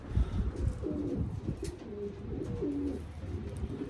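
Racing pigeon cooing close by, several soft throaty coos in a rolling rhythm over faint background noise, with no talk.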